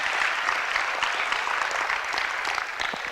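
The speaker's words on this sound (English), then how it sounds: "You can clap for that." Crowd at a poetry slam event applauding, a dense, sustained wash of many hands clapping at even loudness from start to finish, with no speech over it.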